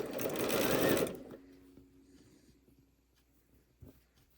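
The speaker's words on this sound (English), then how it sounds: "I'm going to sew both of those strips together along the center here." A sewing machine stitching two fabric strips together along the center, a fast loud whirring burst for about a second that then stops, followed by quiet handling noises and a small knock.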